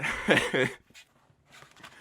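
A dog at a band's recording session gives short whimpering yips up close, followed by quieter snuffling and faint movement sounds.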